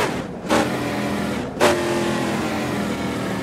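A 2002 Chevrolet Camaro SS engine revs hard, with two sharp throttle blips near the start and then a sustained, loud, rough roar close by.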